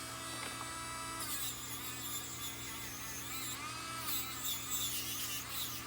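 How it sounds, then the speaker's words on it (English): A metal spoon bracelet is rubbed with sandpaper of different grits, starting at 120 grit. The steady, gritty rasping runs throughout with short scratchy surges. "we're basically playing around with different grits of sandpaper"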